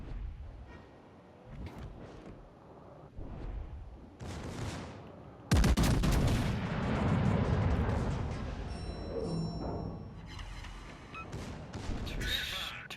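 Continuous artillery barrage in a war video game: distant thuds and crumps that give way to a heavy, sustained rolling bombardment with layered impacts, while people talk over it.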